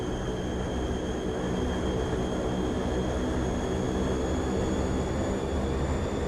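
Fokker F27 turboprop engines spooling up in Microsoft Flight Simulator 2024, a steady, loud propeller drone with high whining tones that holds evenly throughout.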